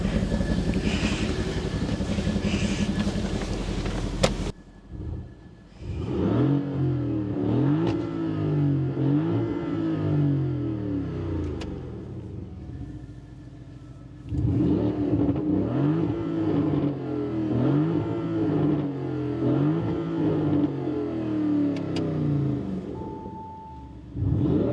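A Lamborghini Urus SE with a twin-turbo V8 is revved while stationary: repeated deep, rising and falling engine swells in two long bursts, loud and close, with no talking.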